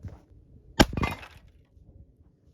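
A porcelain plate bursts apart when struck by a .22 Long Rifle round fired from a 16-inch-barrel revolver: one sharp crack followed by a loud, bright shatter and tinkling fragments lasting about half a second.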